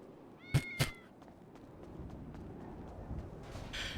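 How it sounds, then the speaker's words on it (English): A cat meows twice in quick succession, loud and close, followed by a steady bed of background noise with faint scattered clicks and a brief hiss near the end. "Cat, shut the fuck up!"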